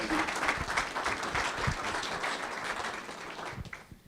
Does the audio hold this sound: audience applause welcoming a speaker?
yes